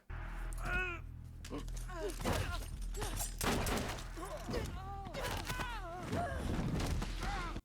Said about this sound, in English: shooting a gun's probably gonna cause attention